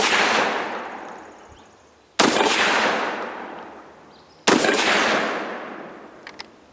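An SDS Titan semi-auto 12 gauge shotgun fires three loud, widely spaced blasts outdoors, each with a long echoing decay, and no voices.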